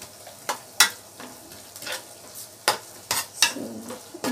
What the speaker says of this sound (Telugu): ఇప్పుడైతే నేను అల్లం వెల్లుల్లి పేస్ట్ వేస్తున్నాను